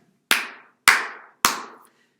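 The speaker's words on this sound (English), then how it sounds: "Let's clap again." Three sharp, evenly spaced hand claps from children ring out with short decaying tails, loud and close, with silence between them.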